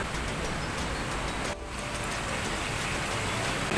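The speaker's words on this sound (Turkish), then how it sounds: "dışarıda saatlerdir yağmur yağmaya devam ediyor" Steady, dense hiss of rain falling outdoors in Malaysia, constant and even throughout, with a brief dip partway through.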